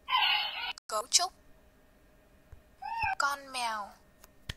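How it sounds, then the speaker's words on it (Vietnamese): A cat meows in a children's animal-learning game: one drawn-out meow, then a cluster of shorter ones, clear and close, with brief voiced sounds between them. "Con mèo."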